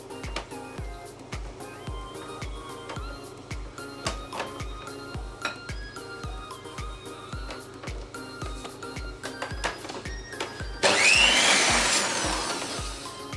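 Electric mixer whipping French meringue at its lowest speed, a steady rhythmic whirring with regular beats, then a louder, brighter burst of noise near the end; no talking.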